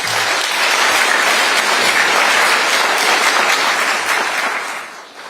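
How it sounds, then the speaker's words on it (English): Sustained applause from an audience welcoming a panel at a televised news discussion: dense, even clapping at full volume for several seconds, fading out at the end. "please give them a round of applause"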